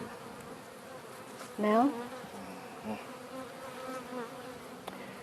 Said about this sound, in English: there are just too many bees here